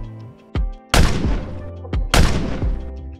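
Toy LCAC hovercraft guns firing: two sharp bursts of loud, crackling shots roughly a second apart, each starting with a hard thump and trailing off into a rattling decay, with no talk over them.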